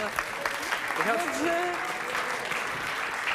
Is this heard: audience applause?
yes